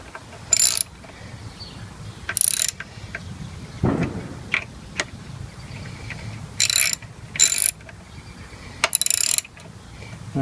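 A hand ratchet tightens the 14 mm front brake caliper bolts on a 1988 Honda VF750C Super Magna motorcycle. Several short, sharp bursts of rapid clicking stand out against a quiet room, with occasional tool clinks between them.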